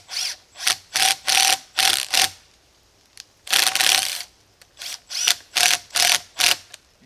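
Screws are driven into an aluminum game camera mount in short repeated bursts of a whirring ratcheting driver, close and loud, with brief pauses between bursts.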